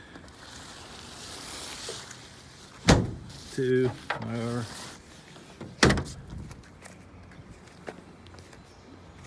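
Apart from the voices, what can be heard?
van doors closing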